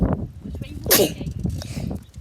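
A person sneezes once loudly at close range while out walking, a sharp burst among ongoing chatter and footsteps, with voices talking before and after.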